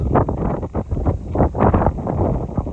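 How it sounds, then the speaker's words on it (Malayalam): Strong gusts sweep across an open hilltop in Idukki, buffeting the microphone in loud, uneven roaring bursts that rise and fall throughout. "നല്ല കാറ്റാ"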